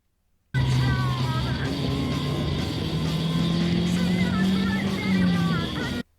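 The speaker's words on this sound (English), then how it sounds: "While we hear the car's engine roaring" A car engine roars in a movie scene, a loud sustained drone with shifting pitch rising and falling as it runs steadily, starting abruptly and cutting off near the end, with some faint voices mixed in.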